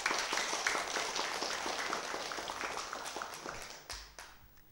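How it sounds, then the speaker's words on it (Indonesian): Scattered clapping from an audience at a mayoral candidates' debate event in Tasikmalaya, moderately quiet, with individual claps audible and thinning out toward the end. "Boleh tepuk tangan dulu untuk semuanya."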